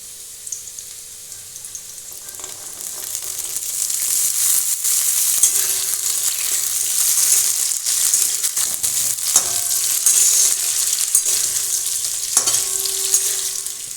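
Peas added to potatoes and carrots already frying in a pan, giving a strong continuous sizzle that swells and holds, with a few clinks of stirring, close and loud, no voices.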